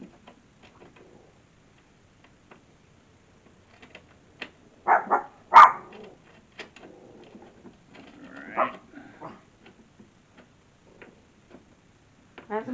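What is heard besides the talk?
old dog half-heartedly barking or growling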